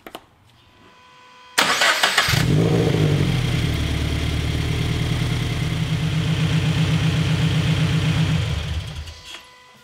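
A Toyota FR-S/86 is started after an oil system upgrade. The starter cranks briefly, then the engine catches and settles into a steady, loud, close idle that runs for several seconds before being shut off.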